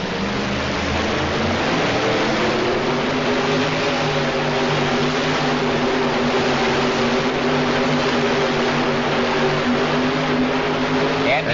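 A 1988 tractor pull engine roars continuously down the track at an indoor super pull, loud and sustained, its tone climbing and holding steady. An announcer talks over it.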